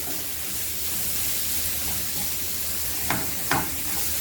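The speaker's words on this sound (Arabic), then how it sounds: "وابدا احمر الكزبره مع التومه كده" Coriander and garlic frying in a pan, a steady close hiss and sizzle throughout, broken by two short stirring scrapes near the end, with no talking.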